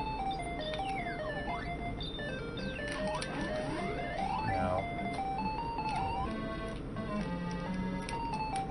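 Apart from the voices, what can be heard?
Bubble Bobble hurry-up warning jingle from a video game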